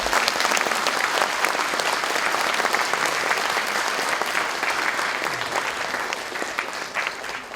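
A large audience claps steadily at a university president's inauguration ceremony, a dense, sustained wash of applause at full strength that eases only slightly toward the end.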